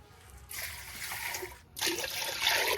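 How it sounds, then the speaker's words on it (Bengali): Water poured into a pot and set to heat on a stove for khichuri, a steady trickling pour that starts, pauses briefly and resumes louder, close by with no talk. "আগে একটু গরম জল বসায় রাখি, আমি উনুনটা বেকার বেকার ফাঁকা দেবো কেন, গরম জল হতে থাকুক"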